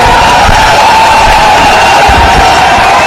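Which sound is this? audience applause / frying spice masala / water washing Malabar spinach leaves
audience applause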